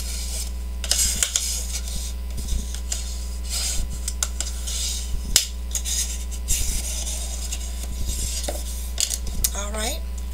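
A small spatula burnishes paper down on a craft mini album, giving soft scraping and rubbing strokes with scattered light clicks and taps over a steady low background hum.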